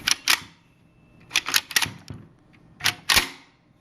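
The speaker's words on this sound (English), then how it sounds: "You get your bolt here. Try and do this one-handed." Mechanical clacks from an AK-47 bolt being worked one-handed in a CBRPS Spike X1 FMD bullpup stock: three quick pairs of sharp metallic clicks and slides, close and crisp, with quiet gaps between.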